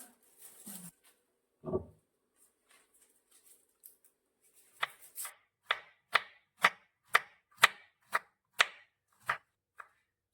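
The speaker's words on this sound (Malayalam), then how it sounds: "നല്ലോണം ചെറുതാക്കി അരിഞ്ഞെടുക്കുക" Knife chopping cabbage, onion and carrot finely on a board, a series of crisp, evenly spaced close cuts in the second half after a few scattered taps and a soft thump.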